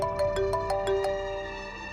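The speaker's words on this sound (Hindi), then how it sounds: "खालिद भाई का फोन लाइबा के फोन पर आ रहा है।" An incoming call plays a phone ringtone: a rapid series of bright melodic tones repeating in a quick rhythm, fairly close and clear, with no talk over it.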